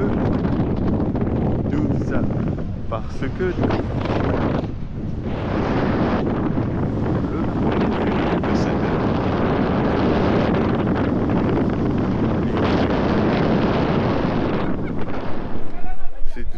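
Strong wind roars continuously across the microphone at sea between the islands off Santo Antão, Cape Verde, a dense low rumble with brief lulls, with a voice talking faintly underneath.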